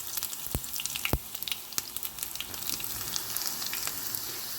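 Finely chopped small shallots fry in hot coconut oil with popped mustard seeds for a Kerala-style inji puli, giving a steady close hiss punctuated by a few sharp crackles and spits.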